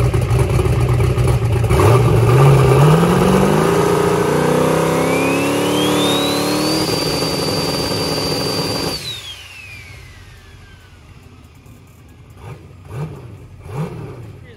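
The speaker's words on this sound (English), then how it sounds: "here is that spool up that you just heard" A 364ci engine car with a GTR 102 turbo revs hard, a loud close engine roar under a rising turbo whine that climbs to a high sustained whistle, then drops away to a quiet idle with a few small pops.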